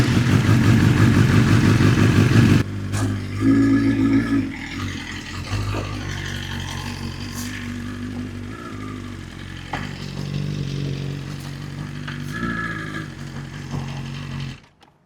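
A BMW S1000 RR motorcycle rides up a trailer ramp, its engine revving loud and close at first, then dropping to a low idling rumble with occasional clatter and small blips of throttle.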